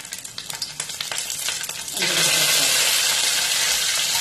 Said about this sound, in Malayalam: ഇനി നമ്മൾ ചട്ടിയിലോട്ട് എണ്ണ ഒഴിച്ചിട്ട് നമ്മൾ തേങ്ങ കൊത്തിയത് ഇട്ട് ഇളക്കുക